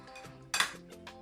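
A spoon stirs chicken with Mexican spices in a pot, giving brief metallic scrapes and one loud clanking burst of utensil against cookware, close up, with no talking.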